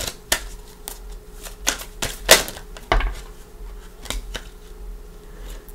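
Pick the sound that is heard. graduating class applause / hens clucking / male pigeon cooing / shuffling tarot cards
shuffling tarot cards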